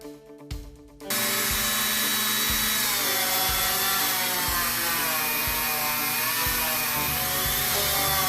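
A spinning power burnishing tool working slicking gum into the edges of a leather long wallet, starting with a few knocks, then a steady high whine with rhythmic dips as the edge is pressed against it.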